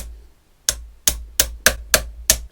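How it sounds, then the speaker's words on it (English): Six sharp metallic strikes from a brass hammer, each a close, loud ringing blow with a short decay, landing at a fairly even rhythm after a brief quiet start, while a low hum runs underneath. "Brass hammer."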